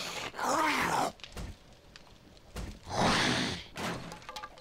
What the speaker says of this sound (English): they're definitely smashing something up